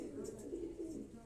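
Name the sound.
Quetta kagzi pigeons cooing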